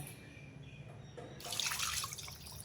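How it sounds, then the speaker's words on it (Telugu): Tamarind extract poured into a pan of Andhra-style fish curry, a soft liquid splash and trickle rising midway and running for about a second before easing off, close and fairly quiet, with no voices. "ఇప్పుడు మనం ముందుగా తీసి పెట్టుకున్నాం కదండి చింతపండు పులుసు, అది వేసేద్దాం"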